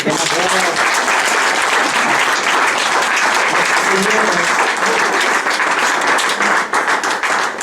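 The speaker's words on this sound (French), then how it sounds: "applaudissons le Seigneur" A church congregation applauds after a baptism, dense sustained clapping filling the room from start to finish, with voices calling out over it.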